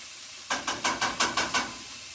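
Butter, herbs and garlic hitting a hot pan over a low flame, seven quick bursts of hissing sizzle in a steady rhythm, moderately quiet and close.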